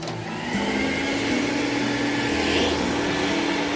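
A vacuum cleaner roars loudly and continuously while vacuuming out a dirty car interior, with the suction pitch shifting slightly as the nozzle moves around.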